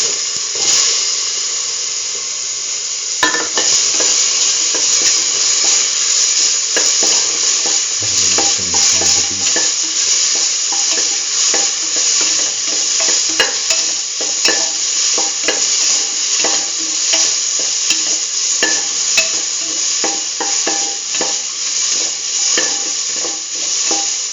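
Tomato pieces fry and sizzle in a pan for a potato chayote stew, a steady close hiss broken by frequent scraping and clicking stirs, with no voices.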